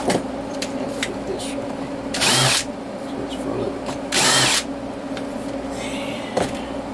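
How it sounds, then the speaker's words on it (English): A power drill whirs in two short, loud bursts separated by a pause, with a steady mechanical hum and faint clicks around them. "drill."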